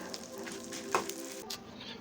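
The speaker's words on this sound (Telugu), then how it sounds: "ఇవి బాగా వేయించి చివర్లో కరివేపాకు కూడా వేసుకోండి." Soft, steady sizzling of spices and curry leaves frying in hot oil, close up, with a light stir and a small pop partway through.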